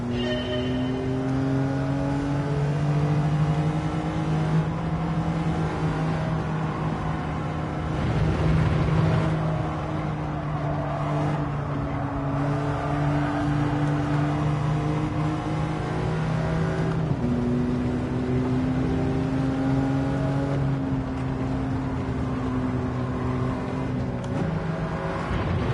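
Toyota Prius engine in the Gran Turismo 7 racing game on comfort soft tyres, a steady electric-hybrid whine and drone with rising and shifting tones as it accelerates, continuous and fairly loud with no talk.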